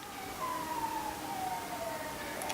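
Distant emergency vehicle siren heard from outdoors, a faint wailing tone that sweeps slowly downward and holds steadily over a low background hum.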